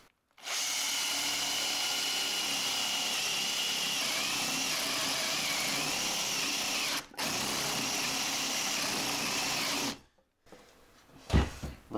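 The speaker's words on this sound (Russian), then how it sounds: "И вот таким образом сверлю" A power drill with a 25 mm spade bit boring a hole through a wooden board, a loud steady whine running for several seconds with a brief pause, then stopping, followed by faint handling noises.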